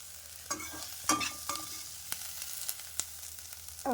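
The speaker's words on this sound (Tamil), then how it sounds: "இதில் கொஞ்சமாக நம்ம பெருங்காயம் போட்டுக்கலாம் அது ஒரு வதக்கு வதக்கலாம்" Asafoetida sautéed in a pan of tamarind pachadi, quiet sizzling frying under scattered scraping stirs of a spoon against the pan, close and soft with no talk.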